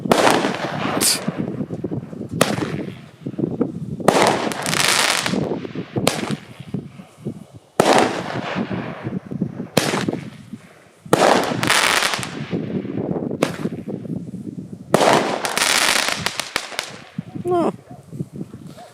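TXC860 Phoenix, Tiger, Leopard and Jaguar firework batteries firing outdoors, a series of loud sharp launches and bursting cracks in irregular bursts with crackling tails, while people talk between the shots.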